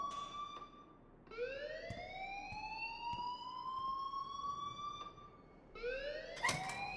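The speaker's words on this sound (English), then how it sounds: "please turn off that alarm since that's your job" A school alarm in the game Life is Strange wails in rising, siren-like sweeps that repeat and restart, fairly faint, with no talk.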